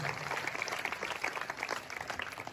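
Audience applause fills a Hindi kavi sammelan poetry recital, a steady dense wash of many hands clapping with no voices on top, sustained throughout.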